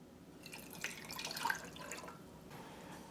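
Water is poured into a pot of palm sugar for syrup, a faint, short trickle and splash with small drips, quiet and close.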